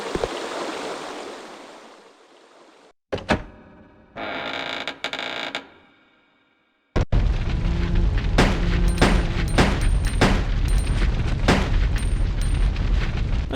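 Gunshots in Resident Evil Code: Veronica, first a creaking, collapsing rumble and brief silences, then a dense stretch of loud, repeated sharp shots ringing over a roaring background.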